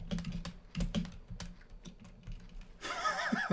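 Keyboard typing during a Roblox Da Hood gaming session, a run of quick, irregular clicking keystrokes close to the mic, ending in a louder burst of noise.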